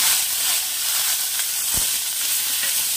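Curry leaves and onion hit hot oil for Punjabi kadhi, after mustard seed and dried chilli, and give a loud, steady hiss of frying that carries on close and unbroken.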